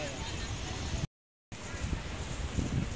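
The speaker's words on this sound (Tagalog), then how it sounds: "Gabiing dako, mahangin talaga sa labas." Steady night wind outdoors at Baluarte, Baclayon, Bohol buffets the microphone in a rough, broadband rumble, cut by a short moment of total silence before the gusting noise returns.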